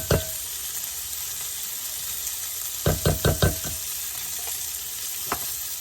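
A spoon scraping canned milk out of a can and mixing it, heard as a quick run of four or five knocking scrapes mid-clip over a steady background hiss, with single taps at the start and end.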